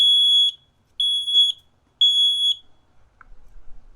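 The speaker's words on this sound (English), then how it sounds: "The alarm goes off" A smoke and carbon monoxide alarm sounds three loud, shrill beeps, each about half a second long and evenly spaced, then stops, leaving a faint rustle.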